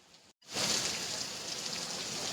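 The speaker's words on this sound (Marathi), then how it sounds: "आता मोठा पाऊस आला." Heavy rain pours down steadily in a market area during a rainy day, a dense, loud hiss that surges in after a brief gap and holds strong and even to the end.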